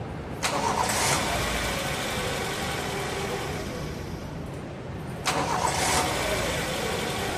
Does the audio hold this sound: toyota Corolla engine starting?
yes